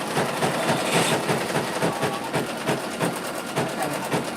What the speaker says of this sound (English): This machine does not tell me when it's out of thread.